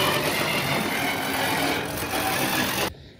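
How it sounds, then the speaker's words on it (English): A Sawzall reciprocating saw cuts through copper-wound piano strings in a harsh, continuous buzzing rasp, loud and close, before cutting off suddenly near the end. "Next, we're gonna use our Sawzall. We're gonna cut up all these strings."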